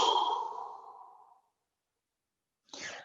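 A long, deep exhale during a breathing exercise for Muay Thai kick mobility, fading out slowly, followed by silence and then a short, sharp breath.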